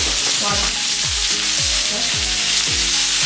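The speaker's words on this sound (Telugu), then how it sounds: "ఆయిల్ వేసుకున్న తర్వాత మనం తరిగి పెట్టుకున్నాం కదా ఎర్రగడ్డలు, ఈ ఎర్రగడ్డలు కూడా వేసుకోవాలి" Chopped onions sizzle loudly in hot oil in a pan, a steady dense crackle with repeated stirring scrapes roughly every half second, close up with no talk.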